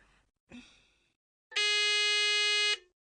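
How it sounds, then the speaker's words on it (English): A soft breathy vocal sound, then a single loud electronic quiz buzzer, triggered by a phone button press, holds steady for about a second before stopping abruptly. "To answer, they press any button on their phone and we'll hear a buzzer."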